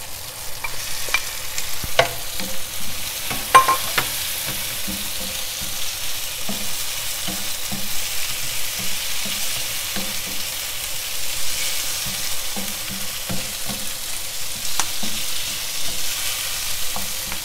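Shrimp fry over high heat in a pan with black pepper, giving a steady close sizzle. A spatula scrapes and stirs in a regular rhythm throughout, with no talking.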